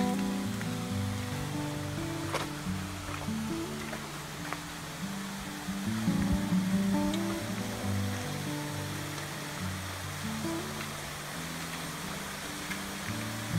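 Rushing water pours continuously from a waterfall at Ein Gedi, Israel, a steady broadband wash heard nearby, with no voices.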